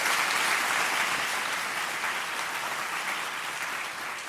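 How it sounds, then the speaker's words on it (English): Steady, dense applause from an audience at an annual business meeting, loud at first and easing slightly toward the end, with no voices over it. "Let's give another huge round of applause for Natalie Holmes."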